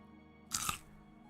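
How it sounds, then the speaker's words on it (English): A single sharp, close crunch, like something brittle being bitten or crushed, bursting loudly for a fraction of a second against near silence, from the game Oblivion Remastered. "The crunch is fine, it's the bit afterwards."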